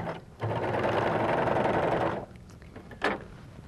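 A Husqvarna Viking Huskylock 1000 serger with a piping foot sews piping in one fast, steady run of stitching lasting about two seconds, followed by a short, quick burst.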